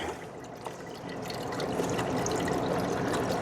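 Campbell's chicken broth (not concentrate) pours steadily into a warming pot, a continuous close liquid stream with a trickling, filling sound that grows slightly fuller as it goes, with no talking.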